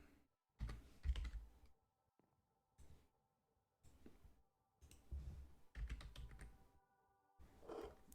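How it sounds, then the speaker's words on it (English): Someone types on a computer keyboard while playing Minecraft, producing bursts of close, quiet key clicks separated by short silent pauses. "Typing is hard sometimes."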